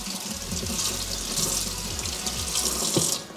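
Water running from a tap and splashing over a NORTIV 8 waterproof hiking boot, a steady loud rushing and spattering stream that holds for a few seconds, with no voices.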